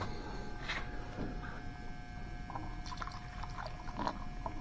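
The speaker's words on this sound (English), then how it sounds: "pour my kerosene in," Kerosene pours through a small homemade funnel into a stove bowl, a soft continuous liquid trickle with light gurgles and faint clinks, close and quiet with no talking.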